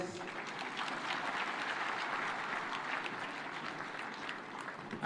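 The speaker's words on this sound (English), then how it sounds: "Another super applause for our host." Conference audience applauding in a large hall at a devolution conference, with steady, dense clapping sustained throughout at moderate level.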